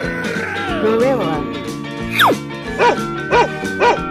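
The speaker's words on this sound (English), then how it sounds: "Dog." A cartoon-style dog gives three short, evenly spaced barks near the end, following a sliding whistle over a continuous music backing.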